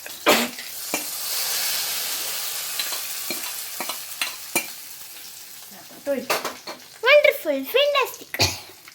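Hot tempering poured into pachadi hisses and sizzles, followed by scraping and stirring with a few clinks, close by and fairly loud.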